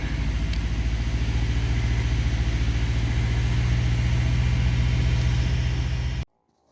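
A car engine idles while warming up, a steady low rumble held close and even for several seconds before it cuts off abruptly.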